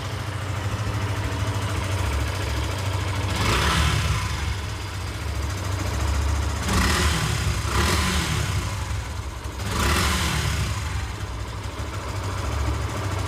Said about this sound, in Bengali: এখন আপনাদেরকে ইঞ্জিনের সাউন্ড শোনানো হবে